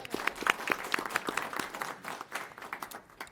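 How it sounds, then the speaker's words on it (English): Audience applause at a transit board meeting, a scattered round of hand claps of moderate loudness that thins out over a few seconds. "I just wanted to give him a round of applause"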